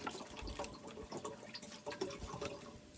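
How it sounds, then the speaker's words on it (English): Water glugs and splashes steadily as bottled water is poured into a cooking pot for boiling eggs inside a van, a continuous close pouring with uneven gurgles and no talking. "I'm gonna put 3 bottles of water in here"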